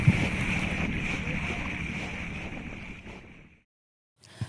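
A storm blows over the wide Jamuna river during a crossing by boat, heard as a steady roaring rush of wind and water that fades out, with a short burst of noise returning at the end.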